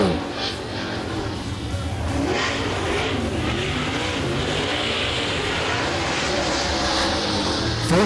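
Masters Built super late model race car, number 27, lapping Crossville Raceway with a steady loud engine roar and dense harmonic drone, rising and falling slightly as it circles the track, no talk.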